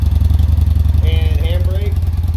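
A 2017 Yamaha SCR 950 retro scrambler motorcycle engine idles with a loud, deep, steady pulsing rumble close by, while a person talks over it.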